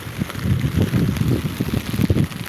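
Rain falls in a steady, soft patter with low rumbling texture, close and continuous across the short stretch, with no voices.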